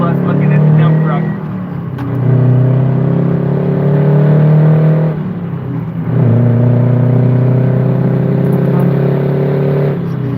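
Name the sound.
dump truck driving and honking its horn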